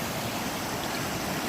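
A backroad creek flows with a short, continuous, close-up rushing of water, dense and steady for its brief length.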